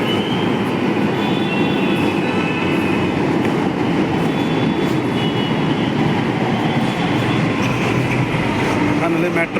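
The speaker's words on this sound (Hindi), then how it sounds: "फाइनली मेट्रो आ गया, हम लोग मेट्रो में बैठेंगे।" A metro train pulls into MG Road station in Gurgaon, giving a steady loud rumble and rail hiss with faint wheel clatter that holds through the whole stretch, without a break.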